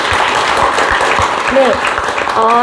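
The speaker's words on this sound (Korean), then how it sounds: "큰 박수로 환영해 주시기 바랍니다" Audience applause at an education forum in a hall, steady dense clapping welcoming a speaker, with voices speaking briefly over it toward the end.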